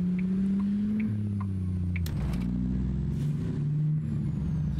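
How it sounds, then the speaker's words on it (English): An International Prostar truck engine in American Truck Simulator idles and shifts through low, droning tones with a hiss of air brakes, steady and close with no voices. "For what looks like a fleet truck, this truck actually sounds pretty freaking good."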